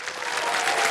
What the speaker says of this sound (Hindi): एक बार फिर तालियां बज जाएं सुधीर कुमार जी के लिए।